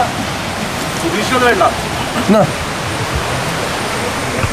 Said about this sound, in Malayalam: നമ്മൾ നേരെ വന്ന് ഇറങ്ങുമ്പോൾ കുത്തി ഒലിച്ചൊഴുകുന്ന പുഴ